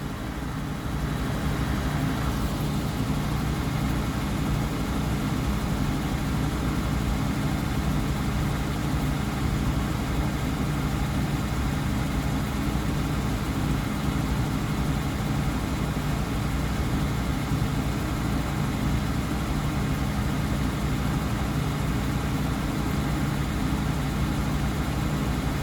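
Engine of a 1996 Jeep Cherokee Sport running steadily at idle, a continuous low rumble with a faint hum that holds even and close for the whole stretch, with no talking.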